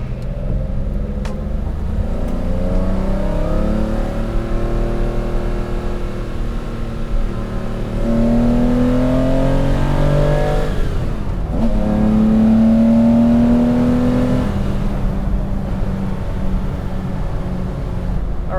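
A 1981 Porsche 911 SC engine idles and revs, its pitch rising and falling in smooth sweeps over a steady rumbling drone, heard up close.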